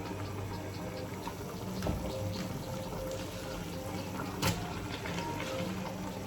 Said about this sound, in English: I wash my hand very well.